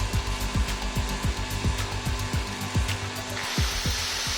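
An electric drill plugged into a generator runs steadily with a whirring motor, overlaid with regular rasping pulses about twice a second, and a brief burst of hiss near the end.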